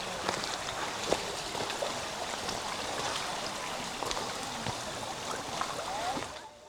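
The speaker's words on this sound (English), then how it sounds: "Following the sound of trickling water, I found a small stream flowing into the river." Clear water trickles steadily from a small stream flowing into a river in the tropical countryside of Hoa Bac near Da Nang, Vietnam, a continuous close babble with light splashy ticks that fades away at the end.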